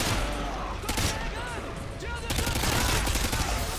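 Gunfire in Call of Duty Modern Warfare Remastered multiplayer, with bursts of rapid shots and sharp cracks layered over busy in-game ambience, loud and close throughout the short stretch.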